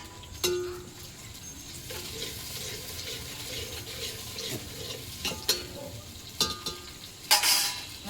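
Tomatoes, salt and chilli are added to browned onions in a pan over a village wood-fired stove, giving a soft steady sizzle with scraping and stirring clatter and a few sharp knocks, close by.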